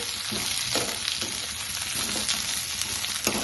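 Drumstick (moringa) leaves and chana dal frying in a pan give a steady, close sizzle with occasional stirring scrapes.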